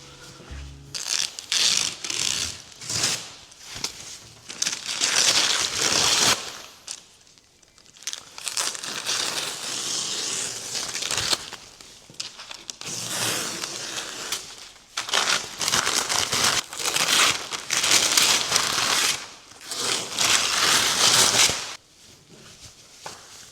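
A painted stencil being peeled off a vehicle hood: bursts of crinkling, tearing film and tape come in close, loud pulls separated by short pauses, with no talking.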